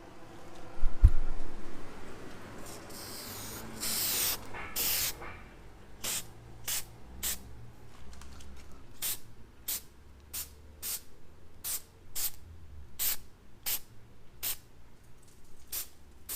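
Meguiar's headlight restoration coating sprayed from an aerosol can onto a car headlight: one longer hiss, then a steady series of short, sharp spray bursts at an even rhythm, close and fairly loud.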